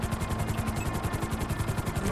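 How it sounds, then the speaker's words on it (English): A helicopter in a video game, its rotor making a steady, fast low chop that keeps going without a break, fairly loud and close, with no talking over it. "Oh, I got a helicopter and everything."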